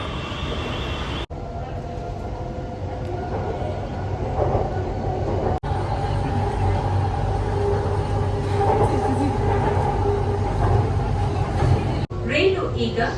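A metro train rumbles and hums steadily at a station platform, with a loud continuous drone broken by a few sharp cuts and a people talking faintly in the background.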